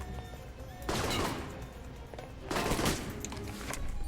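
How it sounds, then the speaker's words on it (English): Gunfire in the Alpha Protocol video game: two loud bursts of rapid shots, the second roughly a second and a half after the first, over a steady background of game ambience. "Who is shooting at me?"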